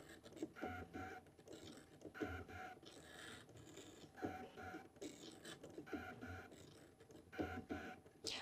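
A Brother Scan'N'Cut machine cuts fabric up close, making repeated whirring, buzzing motor passes in short bursts with brief pauses between them.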